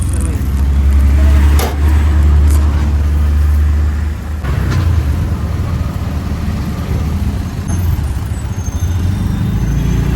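A ride inside an auto rickshaw in Konkan traffic, with a steady loud low engine drone, road rumble, passing horns and clatter throughout, and voices talking faintly underneath.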